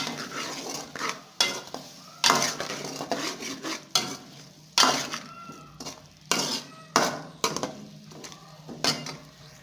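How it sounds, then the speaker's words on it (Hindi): Whole spices, cloves, black cardamom, cinnamon and dried coriander, with salt, stirred in a pot for desi chicken yakhni soup, giving repeated scraping and clinking strokes of a spoon against metal in an irregular rhythm, close and clear. "ये तमाम मसाले इसके अंदर ऐड करेंगे और इसको मिक्स कर लेंगे"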